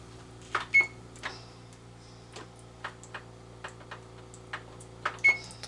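A kitchen oven set to run for another twelve to fifteen minutes, heard as a low steady hum with sharp irregular ticks and clicks and a couple of brief short beeps, close by with no talking.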